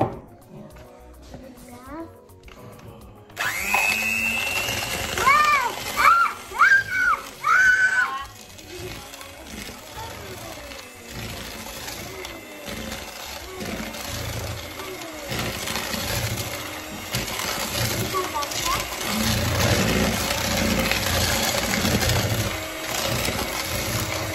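An electric mixer beats cocoa cake batter with a loud, steady motor whine that starts a few seconds in and runs to the end, rising and dipping slightly. An adult and someone talk over it near the start.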